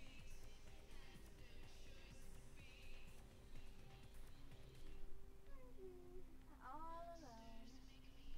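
Faint cat meows in the video game Vampire the Masquerade Bloodlines, a couple of short rising-falling cries near the end over a murky low background hum with soft voice-like murmur earlier.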